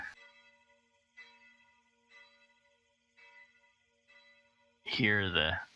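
A town warning bell tolls about five times at roughly one-second intervals, each ringing strike decaying before the next, moderately distant; a voice starts talking at the end.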